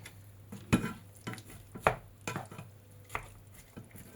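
Garlic and onion get stirred in a pan for a simple lasagna sauce, giving a string of soft, irregular scraping knocks of a utensil against the pan, with faint frying underneath.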